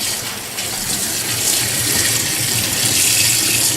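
Tap water runs steadily in a sink, splashing as it rinses guts and eggs out of a raw female lobster, a loud, close, continuous gush with no talk.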